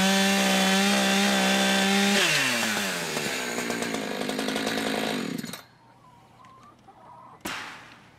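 An Echo chainsaw cutting wood during a chicken run build, running loud and close with a steady high whine that bogs down into the cut, then dropping to idle before a brief rev near the end.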